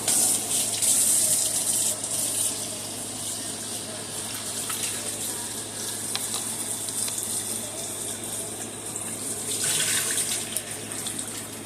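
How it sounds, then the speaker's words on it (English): Cold tap water runs steadily over peeled prawns in a sink, a continuous close hiss and splash that swells slightly near the end. "I'm going to give them a cold rinse."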